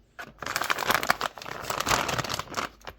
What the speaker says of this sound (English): And just open up the bags of veggies